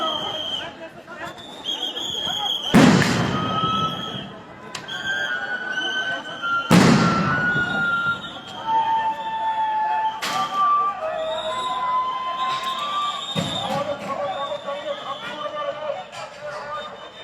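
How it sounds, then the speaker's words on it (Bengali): Police sound grenades go off in repeated loud blasts during a clash with protesters, sharp bangs at intervals with booming echoes, over crowd shouting and whistles while a reporter talks. "দফায় দফায় সাউন্ড গ্রেনেড নিক্ষেপ করছে পুলিশ"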